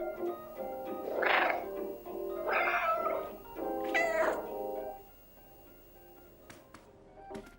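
A cat in the video game Stray gives three drawn-out, wailing meows in a row, loud and close, followed by quieter clicks and small sounds.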